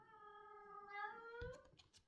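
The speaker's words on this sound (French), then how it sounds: "Faites pas attention aux miauleries des bébés." Female cats in heat meow in drawn-out, wavering cries, with one long yowl rising and falling and then a few shorter, fainter calls. The sound is quiet and heard alone, with no talking.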